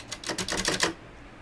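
Typewriter mechanism under repair, tested with a burst of about seven rapid, close mechanical clacks over a second before it falls quiet.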